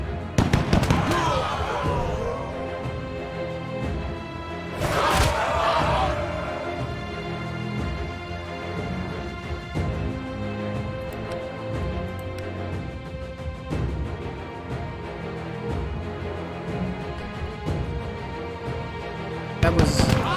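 Battle in the video game We. the Revolution, with a few sharp volleys of gunfire and booming bursts standing out over a constant din of game noise and music.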